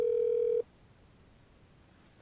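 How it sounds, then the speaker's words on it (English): A desk phone, an OpenStage 40, gives its ringback tone while a call is transferred: one steady electronic tone lasting about half a second, then quiet, with a faint click at the end. "At this point, you'll hear the phone ringing"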